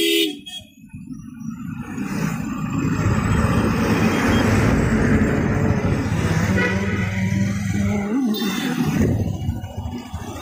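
Road traffic at a jam, heard from a moving motorcycle, with a steady roar of engines and wind and occasional horn toots, close and loud throughout.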